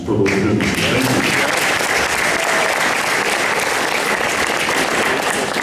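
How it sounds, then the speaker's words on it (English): Dense, loud audience applause at a high school jazz band concert and auction, continuous and steady throughout, with no voices standing out. "I'd like to give a round of applause to those generous donations for those students."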